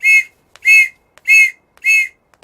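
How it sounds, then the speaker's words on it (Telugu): A police whistle blows four sharp, shrill blasts in an even rhythm, loud and close, with quiet gaps between them and no talking. "పోలీస్ విజిల్ అంటూ భయం."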